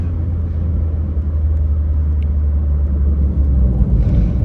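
A 1990 Renault 5 GT Turbo hot hatch drives along, with its engine making a steady, loud low rumble that holds throughout and swells slightly near the end.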